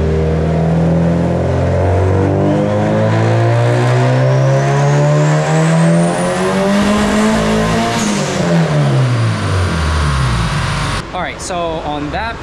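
A turbocharged Honda D16Y8 engine in an EK coupe roars loud and close on a dyno, its pitch climbing steadily through a long pull before it drops off sharply. Voices come in at the very end.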